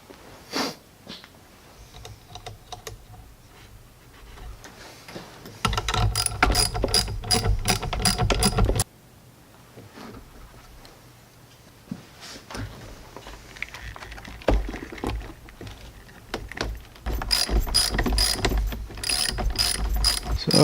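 Ratchet clicking in quick bursts while tightening battery terminal clamps on a Jeep JK with an Optima YellowTop battery, loud close-up runs separated by quieter pauses with no talk.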